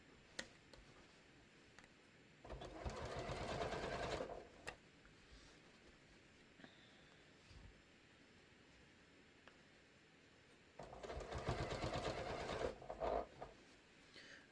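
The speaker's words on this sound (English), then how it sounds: "we're sewing" Sewing machine stitching a quilted batik floppy hat, heard in two separate bursts of rapid mechanical whirring, each a couple of seconds long, with quiet handling noises and small clicks between them.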